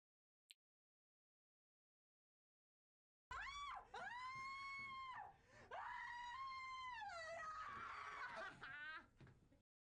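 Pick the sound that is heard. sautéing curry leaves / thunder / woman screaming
woman screaming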